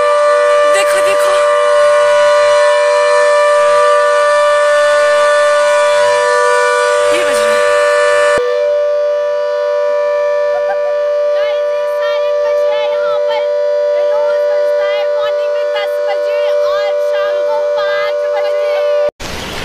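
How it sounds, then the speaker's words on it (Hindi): A loud civil defense siren wails steadily, a sustained tone that stays strong throughout, with a few faint sounds underneath. "यहाँ पे साइरन बज चुका है"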